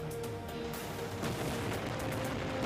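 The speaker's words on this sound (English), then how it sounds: "So 2 cannons on this level upgraded to red cannon." Cannons firing in an Amiga video game running on AmigaOS 4.1, a dense stream of overlapping booms and blasts layered over continuous game music, steady and loud throughout with no pauses.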